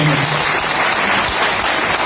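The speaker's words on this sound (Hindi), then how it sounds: "ताली जोरदार बजाएं" A seminar hall audience claps steadily and loudly, a dense continuous wash of applause with no talk over it.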